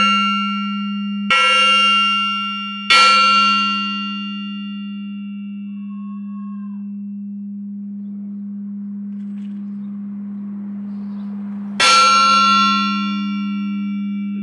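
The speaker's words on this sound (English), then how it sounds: "You need to do it like they actually do with the gong. Hit it a few times and then hit it one good one so it get better resonance out of it." A gong is struck three times: two hits close together, then a single strike after a long pause. Each stroke rings out and decays slowly over a steady low hum.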